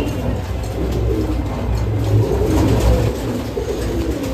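Pigeons of a 9-7 loft line coo in low, rolling murmurs, close and fairly loud, layered over a constant background hum with no voices.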